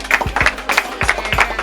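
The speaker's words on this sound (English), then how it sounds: "We could clap off our extended family" Close, loud hand clapping in a quick irregular rhythm at a home unveiling, a handful of sharp claps in bursts with brief gaps between them.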